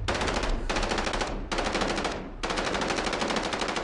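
Gunfire in Call of Duty: Modern Warfare (2019) campaign, rapid automatic bursts of shots, loud and close, in three or four long strings separated by short pauses.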